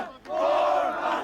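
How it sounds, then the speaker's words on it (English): A football crowd at a Garden Grove game roars a loud, sustained chant, a dense mass of voices swelling after a brief dip and holding steady to the end. "And the crowd says, we're number 1."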